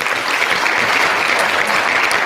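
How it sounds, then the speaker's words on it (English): Steady clapping from a crowd, dense and continuous throughout, with no pauses or voices standing out. "let's give Damo a round of applause"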